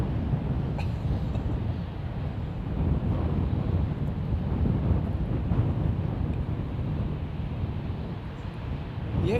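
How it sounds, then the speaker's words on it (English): Steady wind buffets an outdoor microphone on a breezy day beside a runway with arriving aircraft, a continuous low rumbling roar that holds loud and even throughout, with no clear talk over it. "There's a stiff old breeze."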